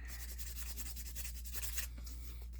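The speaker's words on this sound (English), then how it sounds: "So we're going to sand the heck out of this thing." Steady abrasive rubbing of sandpaper on a ring made from a silver quarter, a continuous close scratchy hiss with small variations in stroke, no voices.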